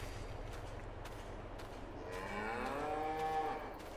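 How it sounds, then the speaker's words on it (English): Cows moo out in a field in the video game Farming Simulator 22, a long, drawn-out low call rising over a steady background hum, clear and fairly near, with no talking. "But the cows are out in the field."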